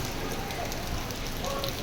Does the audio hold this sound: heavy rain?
yes